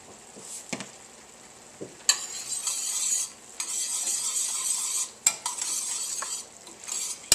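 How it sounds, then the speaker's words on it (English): Whisk stirring flour into a pan sauce for pepper-crusted steak with mushroom Marsala, a scraping, sizzling swirl in bursts broken by brief pauses and a few sharp clinks of metal against the pan, close and fairly loud with no talking. "In order to thicken the sauce, we're going to use a little bit of flour and whisk it in."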